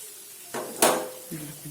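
A spoon stirs sprouted moth bean usal in a pan with fresh coriander just added, giving a few close metallic clanks and scrapes against the pan, one sharper knock standing out.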